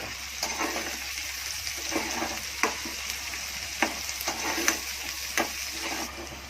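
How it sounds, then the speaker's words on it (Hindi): Mustard seeds and spices dropped into hot oil for a tempering while cooking Konkani cabbage sabji, giving a steady close sizzle and crackle with sharp pops and a few spoon stirs, no talk. "अब ये सब ये तेल गरम होने के बाद एक साथ डालने का।"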